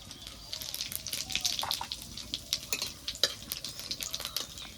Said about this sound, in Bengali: তেলটা গরম হয়ে গেছে, ফোড়নে দিয়ে দেবো 2-3টে শুকনো লঙ্কা, কটা গোটা জিরে